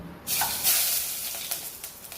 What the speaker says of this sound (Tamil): வெந்தயம் வெடிச்சிருச்சு